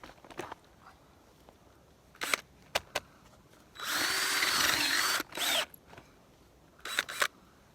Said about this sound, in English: I drilled a really deep hole for the bait